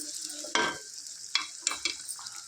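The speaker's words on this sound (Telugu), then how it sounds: "ఒక త్రీ ఆనియన్స్ ఒక టెన్ మిర్చి వేసుకుంటానా వీటిని చక్కగా ఫ్రై చేసుకుందాం" Onions and green chillies fry in a pan while being stirred, with a quiet sizzle broken by several sharp scraping and spatula clicks, close and sparse.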